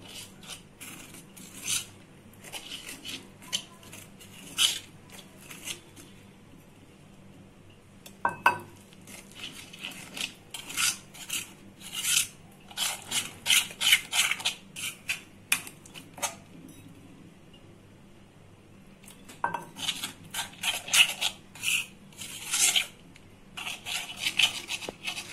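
Gram flour batter with baking powder, turmeric and water being mixed by hand in a bowl for teasel gourd pakoras: repeated bursts of close, wet scraping and rubbing that come in clusters with short pauses between them. No one speaks.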